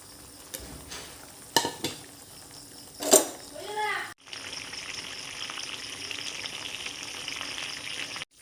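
Small fish drop into a pan of frying vegetable stems, and a quiet simmer turns into a loud, dense, steady sizzle. A voice speaks and utensils clink before the fish go in.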